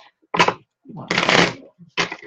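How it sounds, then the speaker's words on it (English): A deck of cards is riffled and shuffled in three quick bursts, close and crisp, separated by short pauses, with a voice speaking between them. "Be stubborn and keep shuffling."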